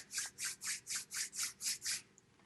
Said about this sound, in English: We can make a scraping sound.